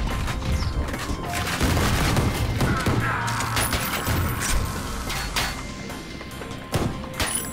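In the retro shooter game Ion Fury, a grenade launcher shotgun fires, heavy booming blasts and crashing explosions in a dense, loud burst of gunfire, with a voice talking partly over the action.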